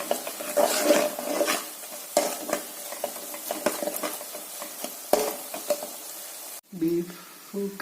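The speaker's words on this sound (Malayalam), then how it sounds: "ഇത് വറുക്കാൻ തുടങ്ങിയിട്ട് ഇപ്പം 15 മിനിറ്റ് കഴിഞ്ഞു." Food frying in a pan while being stirred for a beef dish, with a soft sizzle under repeated scraping and clinking of a spoon against the pan, followed by a brief louder sizzle near the end.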